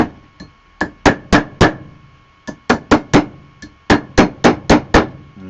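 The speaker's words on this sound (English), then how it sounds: "Get the jeweler's mallet out and we'll just..." A jeweler's mallet strikes metal being shaped into a ring, giving a run of about fifteen sharp, loud, close blows in uneven bursts with short pauses between groups.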